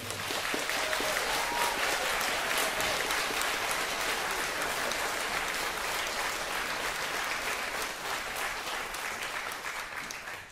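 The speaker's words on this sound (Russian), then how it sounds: "Еще раз аплодисменты." Concert audience in a small concert hall applauds at a benefit concert for Ukraine in Ukraine, a dense, even wash of many hands clapping continuously for about ten seconds, fading slightly at the end.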